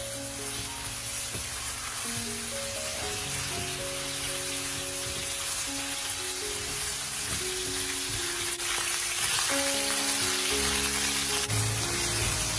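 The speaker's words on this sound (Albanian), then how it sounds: "mishi do t'i hedhim 2-3 lugë vaj ulliri dhe do ta skuqim mirë" About 300 grams of beef fry in two to three spoons of olive oil for a pea stew, a close, steady crackling sizzle with some stirring under a faint background tune.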